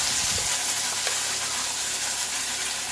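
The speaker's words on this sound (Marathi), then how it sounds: "त्यामध्ये आपण तयार केलेलं वाटण टाकून घेऊ" Ground spice paste fries in a pan with red chilli powder, turmeric, garam masala and coriander powder for besan vadi curry, sizzling and hissing steadily and loud at close range, with a brief stirring scrape near the start.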